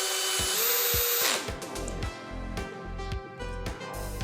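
A Bosch 18V-EC cordless drill drives a screw in a series of short whirring bursts, each cut off sharply as the clutch clicks off. The bursts come close and loud and repeat rhythmically, with no voices.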